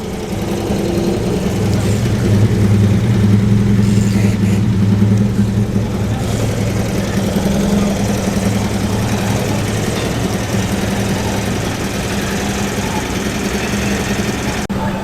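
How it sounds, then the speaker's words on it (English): Small tuned Citroen 2CV race car engines, roughly 45 brake horsepower and race prepared, drone steadily at Oulton Park circuit, a continuous buzzing engine note with some background talk. "these are tuned to the dizzying heights of roughly 45 brake horsepower. Obviously all roll cage and race prepared."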